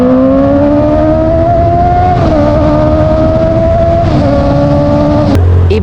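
A Honda CB650 inline-four motorcycle engine revving hard, a loud, sustained high-pitched wail that holds and shifts pitch slightly a couple of times before dropping off near the end.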